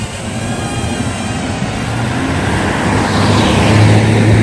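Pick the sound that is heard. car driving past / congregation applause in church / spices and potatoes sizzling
car driving past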